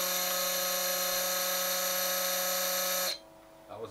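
Small electric motor of a tool post grinder spinning at steady high speed during balancing, a loud whining hum with strong tones that cuts off abruptly near the end, leaving a faint quiet background.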